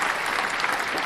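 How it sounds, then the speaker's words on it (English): An audience applauds Hot Rod Wally with dense, steady clapping from a crowd. "if everybody could just give a little applause for Hot Rod Wally"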